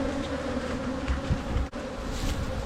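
Honeybees buzz steadily in an open hive while frames are inspected during cell-builder colony setup, a close, dense drone with no voices.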